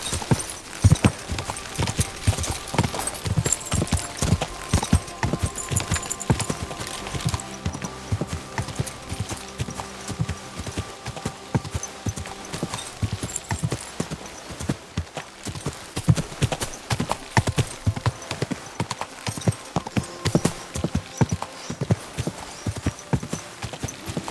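Horse hooves clip-clop steadily in Kingdom Come: Deliverance 2, a brisk repeated rhythm of close, crisp strikes, with a brief neigh among the footfalls and quieter ambient game sound beneath.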